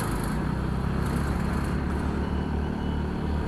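Heavy night traffic sits jammed on the Mumbai–Goa highway, heard from a scooter or motorbike as a loud, steady engine and road rumble with a dense, continuous wash of surrounding vehicles and no talk.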